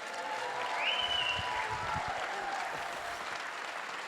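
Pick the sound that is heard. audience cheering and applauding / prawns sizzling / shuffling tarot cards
audience cheering and applauding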